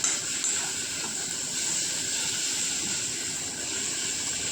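Thuthuvalai leaves being sautéed in a pan, a steady sizzling hiss that runs unbroken and fairly close throughout, with no talking.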